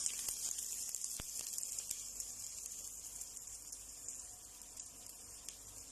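Garlic, onion and tomato sauté in a hot pan for an Arabic marag stew, a steady soft sizzle with occasional sharp pops and crackles, heard close and alone.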